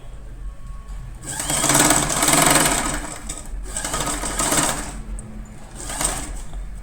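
Sewing machine stitching a folded saree pallu into a pleated design, a close, steady mechanical whir that rises and falls in long runs with brief pauses between.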